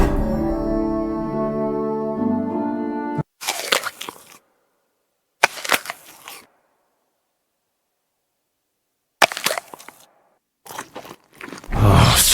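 A video game character eating, with crunchy bites and chewing arriving in several short bursts separated by silence, after a sustained musical tone at the start; close and fairly loud, with no talk.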